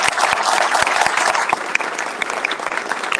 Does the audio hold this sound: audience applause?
yes